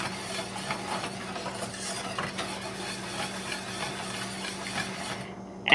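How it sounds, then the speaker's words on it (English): A spoon keeps stirring Jamaican cornmeal porridge in a pot, a continuous soft scraping and rubbing close by, ending in a brief louder knock. "you'll need to just keep stirring this to make sure no lumps are forming"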